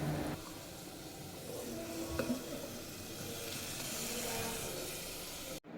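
Onions with garlic, ginger and green chillies sauté in a pan for vegetable mappas, making a soft, steady sizzle and hiss that carries evenly and quietly throughout, with one faint knock near the end.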